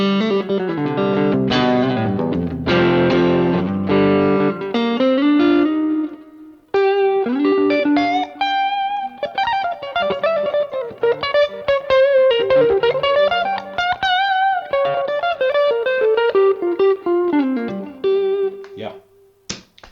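Electric guitar played through a Mesa Cab Clone speaker simulator, with loud chordal strumming that gives way to melodic single-note lines with bends, clear and close with a light effected tone.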